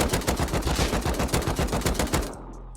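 Rapid automatic gunfire from the video game Rust, a steady burst of evenly spaced shots, loud and close, cutting off abruptly near the end.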